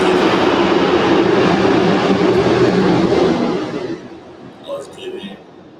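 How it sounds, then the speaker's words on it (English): An airplane passes low overhead near an airport, a loud broad roar that holds for several seconds, then fades away, leaving quieter scattered background sounds. "I live close to the airport, so that was just an airplane going over my roof."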